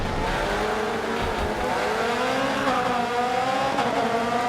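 Race car in the Grid Autosport mobile racing game crashing into a barrier, heard as a continuous loud engine drone with whining pitch shifts and rough scraping noise, no voices.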